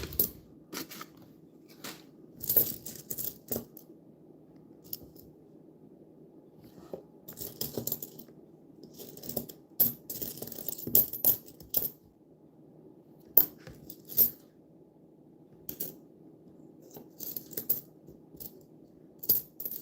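Nickel coins clinking and sliding against each other as fingers dig through a box of them, with irregular bursts of bright metallic jingles and small drops repeating close by throughout.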